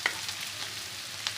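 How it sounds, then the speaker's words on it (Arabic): Onions hit melted ghee in a pan and sizzle with a soft, steady hiss, faint and close, with a couple of sharper crackles standing out. "ودلوقتي جاهزين ننزل بالبصل اللي معانا"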